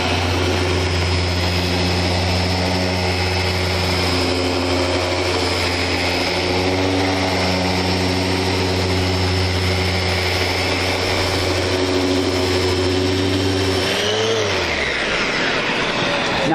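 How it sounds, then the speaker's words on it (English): Festool sander working wood, a loud steady motor whine with layered humming tones that runs throughout, then drops and winds down sharply near the end, with no talking. "Watch my directional sand."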